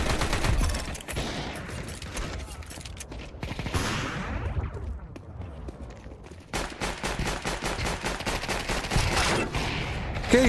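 Sustained automatic gunfire in the shooting game Corrida Armada, with dense rapid bursts and a short lull midway before the loud firing resumes.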